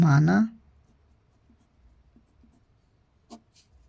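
Solving a maths problem by hand on paper: a short burst of a voice is followed by faint, scattered scratching of a pen at close range.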